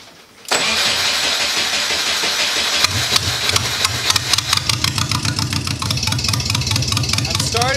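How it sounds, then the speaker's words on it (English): A Porsche 914 engine cranks and catches, then settles into a loud, steady idle with a slightly uneven, pulsing beat, heard up close. "I'm gonna start it, see what the air fuel ratios are at just at idle"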